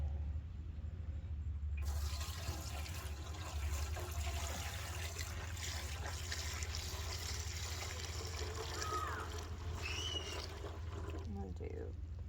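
Liquid is poured into the fuel tank of a 2007 Kawasaki Vulcan 1500 Classic and sloshed around inside, giving a steady close trickling and splashing wash that runs for the whole stretch.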